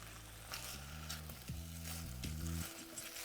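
Boiled flat beans fry in mustard oil over a high flame, a soft steady sizzle broken by stirring scrapes and faint tonal hum, with no talk.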